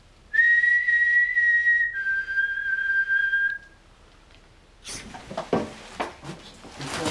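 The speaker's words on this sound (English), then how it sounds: "I'm hearing a whistle as well." Two long, clear whistled tones, the second slightly lower, followed by a few seconds of clattering household noise.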